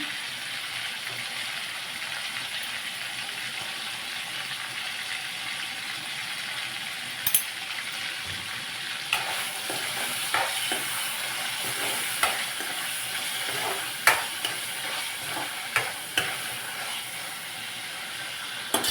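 Chicken biryani cooks in a pot on a stovetop, a steady soft sizzle and steamy hiss running throughout, with a few sharp clinks and scrapes from stirring toward the end; no one speaks.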